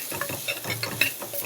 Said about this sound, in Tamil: இப்போ ஒரு 2 நிமிஷம் நல்லா இதை ஃப்ரை பண்ணியாச்சு